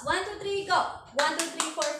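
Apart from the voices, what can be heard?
class clapping applause for a group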